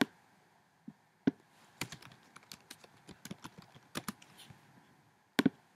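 Quick, uneven keystrokes on a computer keyboard, a run of light clicks with a few louder taps, heard close and alone in a quiet room while text is entered in Xcode 5.1 on a Mac.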